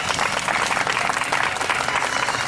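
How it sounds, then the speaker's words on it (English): Steady audience applause fills a Disney Festival of Fantasy Parade costume preview celebrating Brave and Merida, dense and continuous throughout with no voices breaking through. "Round of applause for Brave."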